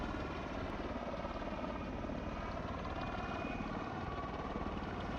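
A steady, dense rotor-and-turbine drone from an MV-22 Osprey tiltrotor in Microsoft Flight Simulator 2020 plays continuously at a constant level, with no voices over it.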